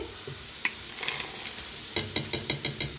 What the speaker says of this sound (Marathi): कांदा मस्त असा भाजायला लागलेला आहे